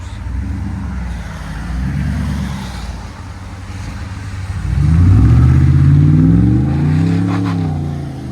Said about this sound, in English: Really nice truck. FLOWMASTER Outlaw,